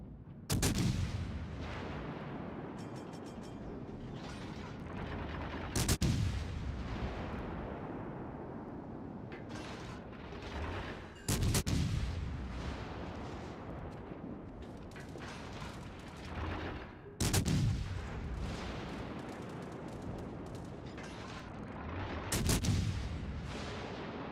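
Heavy artillery and gunfire from a naval combat video game, with big booming blasts roughly every five to six seconds over continuous rattling gunfire and mechanical clatter, loud and dense throughout, no talking.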